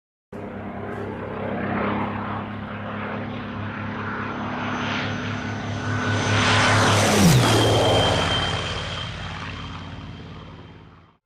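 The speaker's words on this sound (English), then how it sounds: "The Spitfire was powered by a Rolls-Royce PV.12 inline 12-cylinder water-cooled engine, later renamed the Merlin, or a Rolls-Royce Griffon engine." A Spitfire fighter with a Rolls-Royce Merlin or Griffon inline 12-cylinder water-cooled engine roars overhead, building to a loud close pass with a falling pitch as it goes by, then fading.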